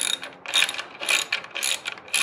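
A hand ratchet snugs down bolts on a Rotopax mount attached to a DV8 tire carrier, producing a few quick bursts of close, bright pawl clicking with short pauses between strokes.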